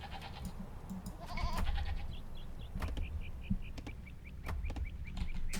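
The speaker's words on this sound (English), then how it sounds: "Oh, a goat." A goat bleats in the video game Age of Empires 2: Definitive Edition. Short, fairly quiet repeated game bleats and clicks play over soft ambient game sound.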